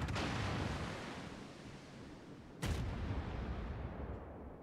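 Naval shells impacting in the World of Warships video game: a heavy rumbling boom fading out, then a second sharp blast and rolling rumble, loud and without speech.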